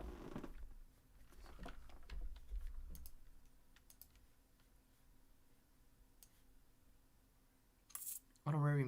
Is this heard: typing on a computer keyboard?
yes